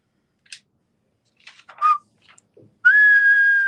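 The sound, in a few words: loud whistling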